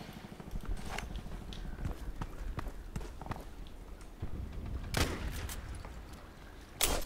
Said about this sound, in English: 2 guys shooting at me